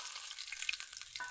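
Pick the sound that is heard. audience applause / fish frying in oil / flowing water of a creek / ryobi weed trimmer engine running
fish frying in oil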